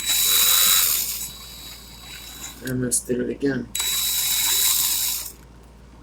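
A power drill running in reverse whirs in two long, loud, steady bursts, with a short spoken remark in the quiet gap between them.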